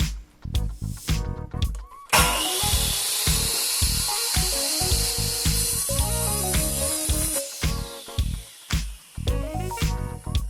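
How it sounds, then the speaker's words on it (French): A mitre saw cuts through bamboo, producing a loud sustained whining buzz from the blade that runs for several seconds between short start-up and spin-down bursts, close and without talking. "Ensuite, je termine la coupe à la scie à onglet pour séparer les deux morceaux."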